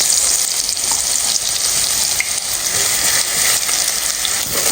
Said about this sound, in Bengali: তেল দিয়ে দিচ্ছি আর দিয়ে দিলাম শুকনো মরিচ আর এখন দিয়ে দিব রসুন